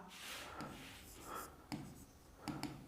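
A maths step is written out by hand, with soft scratching strokes and a few sharper taps close by, quiet and brief.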